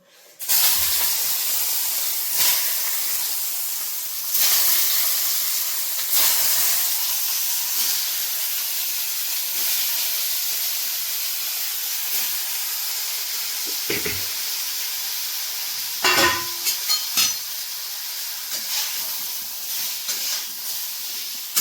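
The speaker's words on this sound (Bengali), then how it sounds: "এই যে দেখো শিম ভাজবো, কি গরম দেখো শিমগুলো" Green beans frying in a hot pan send out a loud, continuous hiss that runs the whole time, broken by occasional low thuds and scraping knocks from handling the pan and spatula, with no speech.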